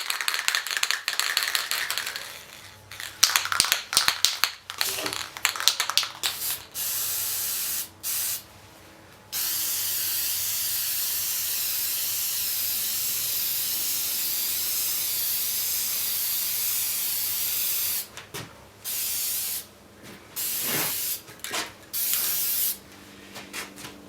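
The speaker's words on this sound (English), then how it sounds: "now we'll just take this and black lacquer it" Black lacquer sprays onto the underside of an Aerola SR radio in loud bursts of hissing spray, some short and choppy, one long sustained blast in the middle, separated by brief silences.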